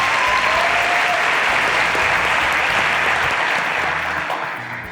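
Audience applause after a music performance, a loud, dense burst of clapping that holds steady for several seconds before tapering off slightly at the end.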